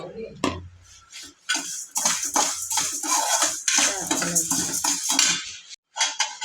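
A spatula clatters and scrapes in a pan while cumin and fenugreek seeds are fried and stirred, producing irregular metallic knocks and scraping bursts close up, with brief pauses between strokes.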